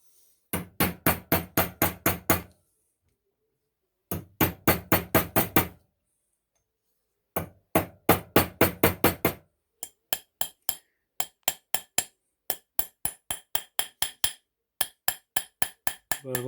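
Metal being hammered into a thick square shank for a hand-forged solitaire ring, heard as rapid bursts of close, sharp ringing blows in groups separated by short pauses, then lighter, more spaced strikes.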